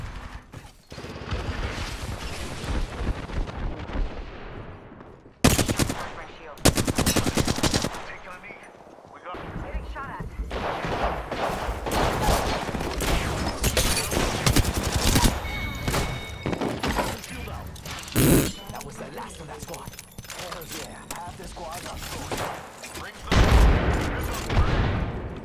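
Rapid gunfire from Apex Legends rattles in bursts of automatic shots and single cracks, with loud blasts and impacts over a busy battle background while a player talks and swears now and then.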